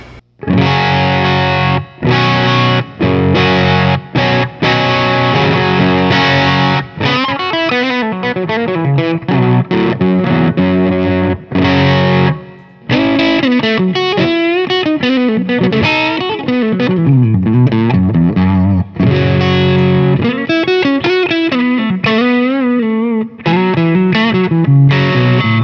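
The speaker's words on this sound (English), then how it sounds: "And back to the bridge pickup, sounds like this." Electric guitar on the bridge pickup through an Xotic AC Booster with the gain raised, a loud, crunchy, continuous run of strummed chords and fast riffing lines.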